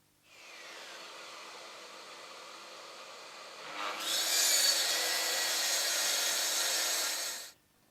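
A Mafell MT55 track saw spins up with a motor whine, then bites into wood about halfway through, its cutting roar louder and harsher for several seconds before it stops abruptly.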